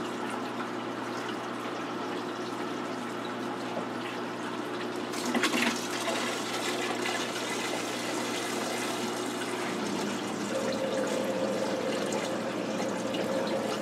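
Water siphons through a large vinyl hose during a change on a 125-gallon planted aquarium, a faint, continuous gurgling rush that stays fairly even, with a brief splashy burst partway through.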